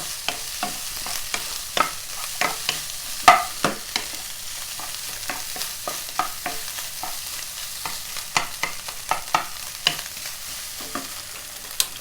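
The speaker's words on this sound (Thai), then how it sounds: "ถ้าผัดข้าวก็จะ อร่อยนะคะ ตัวเม็ดข้าวเขาก็จะโดดนะ" Vegetarian sausage fried rice stir-fried in a new wok over a gas stove, with a steady sizzle under repeated sharp clanks and scrapes of the spatula against the pan, close and continuous, no voices.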